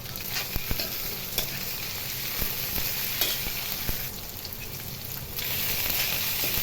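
Meal maker soya chunks frying in a pan with ginger garlic paste for a gongura curry, giving a steady close sizzle and crackle broken by sharp stirring clicks and scrapes, with no voices.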